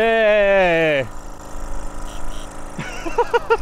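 A Solex moped engine revs high and steady, then drops abruptly as the throttle is cut and settles into a low, uneven running rumble, with a rider's voice briefly over it near the end.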